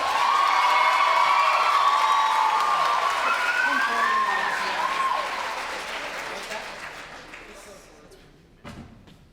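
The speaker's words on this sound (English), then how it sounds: "Can we give them one more big round of applause?" An audience at a Milwaukie high school spring concert applauds student jazz soloists, a loud sustained round of clapping with some cheering that gradually fades out.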